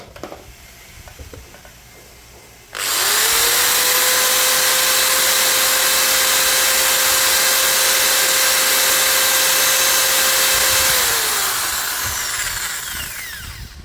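A Bosch GBM350 electric drill spins up after a quiet start and holds a loud, steady high-speed whine at full RPM for several seconds, then winds down gradually as it coasts to a stop.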